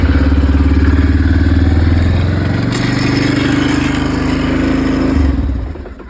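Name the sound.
engine running while its carburetor is adjusted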